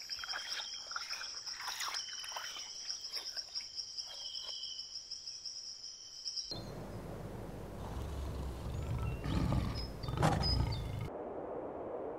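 African lions roar in the wild, heard as deep low rumbles. Steady insect and cricket chirring fills the first half, then a louder, rougher stretch of roaring follows.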